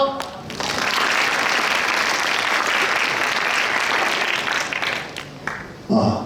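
At a high school admissions briefing, an audience bursts into sustained applause that swells after a brief spoken lead-in, holds steady, then fades as a speaker starts talking at the close.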